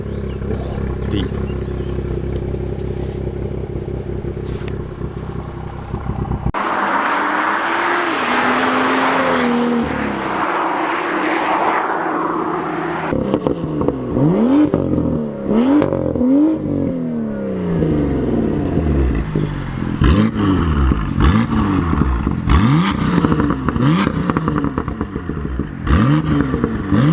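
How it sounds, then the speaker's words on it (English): BMW M2 with the N55 engine and switchable exhaust valves, revving loudly close by: a steady idle drone, then a burst of high-pitched rasp, followed by a series of sharp rising-and-falling rev blips with crackly exhaust tone. "with the valves closed it's still pretty loud. It still sounds lovely."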